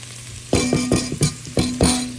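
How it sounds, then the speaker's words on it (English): Homegrown chestnut red garlic from the garden tumbles into a hot pot and sizzles, with several scraping stirs and clinks of a utensil against the pot over a steady frying hiss. No one talks. "So we got this homegrown chestnut red garlic from our garden. Dump it in there."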